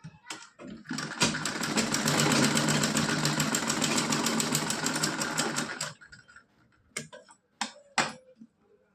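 Sewing machine running a double stitch line on a doll's dhoti kurta outfit, one sustained fast whirring burst of about five seconds, followed by a few short taps and clicks.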